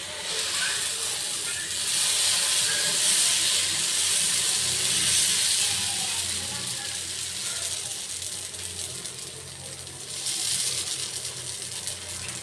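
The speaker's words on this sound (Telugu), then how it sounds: "వాటి ఇప్పుడు నేను దోశ వేస్తున్నాను చూడండి." Dosa batter sizzles steadily on a hot pan, a loud continuous hiss and crackle with a few swells, heard alone without talk.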